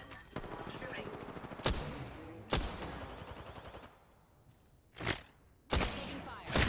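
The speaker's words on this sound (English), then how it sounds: "Taking fire." Video game gunfire in a military shooter: a few loud, sharp, close shots and bursts spaced irregularly over a rumbling battle bed, with talk on the radio in between.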